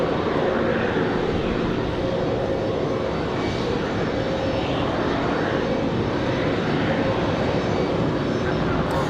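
A JetBlue airliner in New York Jets livery, arriving at Raleigh-Durham from JFK, gives a steady, loud engine roar that holds throughout with a broad rumbling low end.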